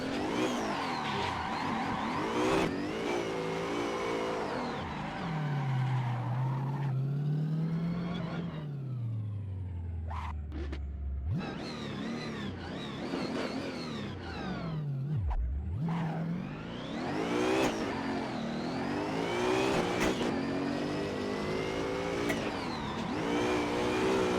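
A drift car engine in Assetto Corsa revs and whines through rising and falling pitches at Irwindale, played on a sim rig wheel, with tire screech and shifting gears, loud and continuous through sliding turns.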